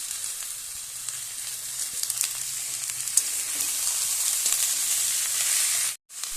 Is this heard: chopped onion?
yes